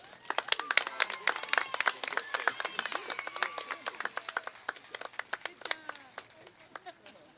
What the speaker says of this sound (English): Give them a round of applause one more time.